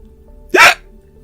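A single sharp hiccup from a person, short and abrupt, standing out loudly against near-silence with a faint low hum underneath.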